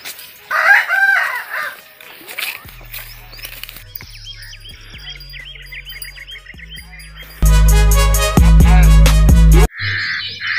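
A rooster crows and hens cluck close by, with a loud burst of farmyard noise midway and more crowing toward the end.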